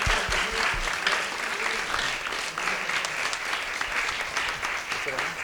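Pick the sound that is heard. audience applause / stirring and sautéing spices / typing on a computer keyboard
audience applause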